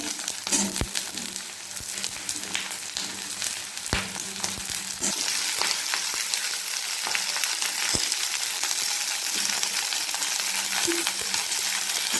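Constant sizzling of cauliflower and potato frying in a pan, with occasional sharp clicks of a utensil stirring against the metal.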